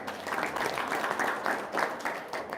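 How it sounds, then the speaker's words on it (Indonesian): An audience at a religious lecture claps together, a moderate, fairly distant patter of many hands that swells and eases in waves with no talk over it. "Tepuk tangan dulu dong"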